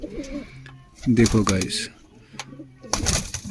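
A male pigeon of Kamagar bloodline coos in close, rolling bursts while someone talks over it nearby.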